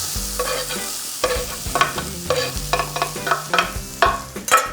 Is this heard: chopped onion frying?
yes